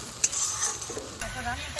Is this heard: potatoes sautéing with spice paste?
yes